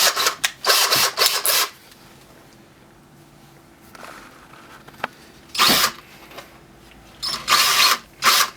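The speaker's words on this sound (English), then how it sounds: "I'm just gonna drill a huge hole in there." A power drill boring into plastic whirs in several short bursts, loud and close, separated by quieter pauses with faint rattling and handling noise.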